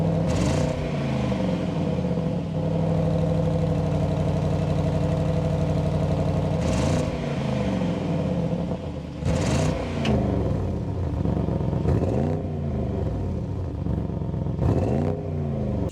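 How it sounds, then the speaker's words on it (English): A 2026 Audi RS6 Avant Performance bi-turbo V8 idles with a deep, steady rumble, then revs sharply several times, each rev climbing and falling back to idle. "start up this bi-turbo V8 so you can hear that exhaust note"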